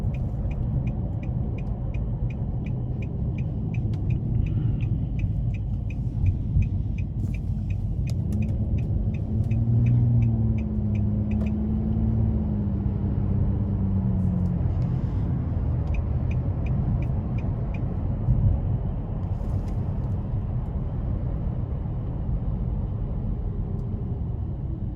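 A 2022 Nissan Maxima SR cruises on the road, heard from inside the cabin as a steady, loud low rumble of road and engine noise with a faint rise in engine tone midway and light ticking clicks.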